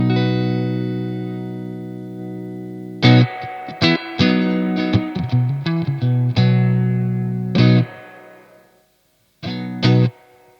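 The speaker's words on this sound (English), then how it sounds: "Right, the reverb, this is going to adjust the mix." Electric guitar chords played through a Crazy Tube Circuits White analog tremolo and reverb pedal, several strummed hits ringing out with a sustained reverb tail, loud and alone.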